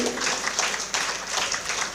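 An audience at a Hindu scripture recitation applauds steadily, a dense wash of clapping that continues throughout.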